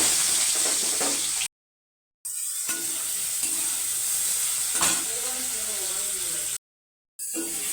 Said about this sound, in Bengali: কড়াইতে তেল দিয়ে চিংড়ি মাছ ভেজে নেব।